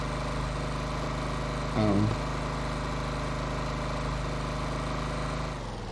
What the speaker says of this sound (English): They gave the 5x5 custom engine head the large large engine sound effects.